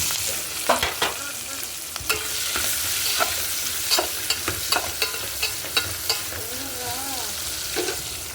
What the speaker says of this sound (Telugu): తాలింపు గింజలు వేగాయి కరేపాకు ఉల్లిపాయ పచ్చిమిర్చి చేస్తున్నాం